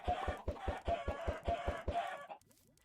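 Chickens in the Techopolis 2 video game cluck in a quick, regular series of loud, near, pulsing calls that break off abruptly, ending in a brief quieter tail of chirps.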